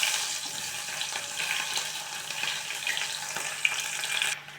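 Small onions and green chillies with fenugreek seeds fry in hot oil for a Thanjavur-style fish curry, a soft continuous sizzle with light stirring, close and moderately quiet.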